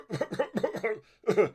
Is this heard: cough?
yes